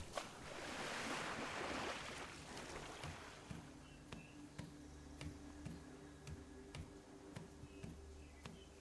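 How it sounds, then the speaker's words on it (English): Waterfall in the BitCraft Online game world, a steady broadband wash of falling water that swells loudest early then settles into a softer rush beneath repeated light ticking game sounds and a low droning tone. "we got one of those magical double-sided waterfalls"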